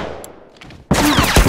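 Rifle gunfire in The Last of Us Remastered: after a quiet stretch with faint rustles, a sudden loud burst of rapid shots erupts and continues close and harsh to the end.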